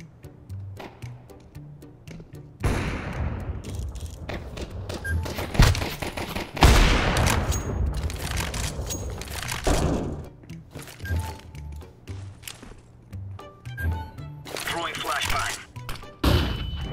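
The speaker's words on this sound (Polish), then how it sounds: "Jak strzelił głośno." Counter-Strike 2 gunfire erupts in loud, repeated bursts of shots and rapid volleys, with heavy thuds between them, continuing with few pauses across the whole stretch.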